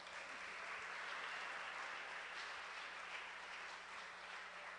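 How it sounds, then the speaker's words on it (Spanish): Church congregation applauding in a small temple, a soft, even wash of distant clapping held steady for several seconds with a faint electrical hum underneath. "Un aplauso."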